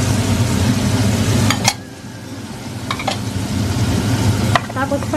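Garlic and onion sizzle loudly in a pan, a close continuous crackle interrupted by a few sharp clinks of a utensil against the pan.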